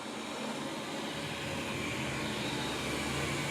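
A Wyze robot vacuum hums and whirs steadily on a hallway floor, a constant broadband whooshing motor drone at moderate distance with no voices.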